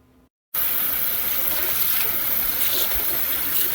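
Rinse water poured off elderberries, a steady, fairly loud gushing pour that starts suddenly after a brief silence and continues evenly to the end.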